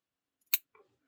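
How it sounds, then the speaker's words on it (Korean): Scissors snipping the tail of crochet yarn on a dish scrubby, a single sharp close snip followed by a softer rustle in near silence. "그다음에 여기 꼬리 끝에 부분에서 잘라 주시면 돼요."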